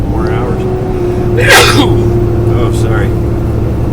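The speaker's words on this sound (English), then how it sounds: "That's about the 15th time today I sneezed." A single sharp human sneeze bursts out mid-clip over a constant low engine rumble, as if inside a moving vehicle, with a couple of fainter breathy sounds following.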